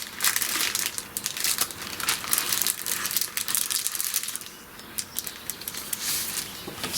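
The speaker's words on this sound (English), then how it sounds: "sorry, I was just grabbing some paper." Sheets of alcohol ink paper being grabbed and handled, crisp close crinkling and rustling that continues in uneven bursts throughout.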